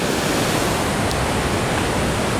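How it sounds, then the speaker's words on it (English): Waterfall near a suspension bridge in Taiwan, a steady broad rushing roar of falling water, loud and continuous with no voices. "there's like a observatory platform here and a waterfall coming down here"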